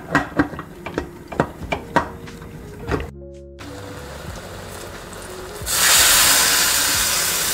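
A pressure cooker steams while cooking Kashi halwa: a run of sharp clicks and knocks first, then a quiet gap and a low hum, before a loud, sustained hiss of escaping steam takes over toward the end.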